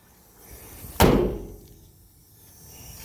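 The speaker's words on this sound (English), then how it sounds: "yeah, the door's shut really good." A single solid slam of the door on a 1974 International Scout, one close sharp thud with a short fading resonance, surrounded by quiet.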